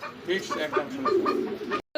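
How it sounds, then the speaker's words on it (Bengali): A red male Lahori pigeon coos close by in a steady series of throaty, rolling calls for nearly two seconds before the sound cuts off abruptly. "এই যে বামে যেটা ডাকতেছে এটা হচ্ছে নর কবুতর"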